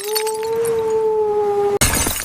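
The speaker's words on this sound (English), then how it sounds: "Glass shards fly past" Glass shatters abruptly in a sharp, loud burst at the very end, right after a steady two-tone hum holds for nearly two seconds.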